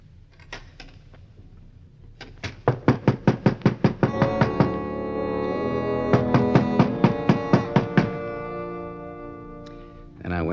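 Knocking on a door in a radio drama: two bursts of rapid, loud knocks, about eight raps each, with a pause between, over a sustained musical bed.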